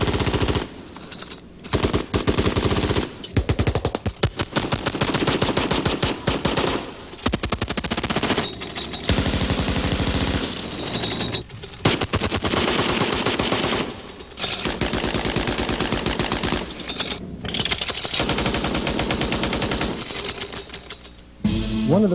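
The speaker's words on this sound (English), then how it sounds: "6 guns firing in an oscillating mood like this would put out a horrendous field of fire" Gatling gun firing long, rapid bursts, loud and sustained with short pauses between strings of shots, the rattling fire filling the whole stretch.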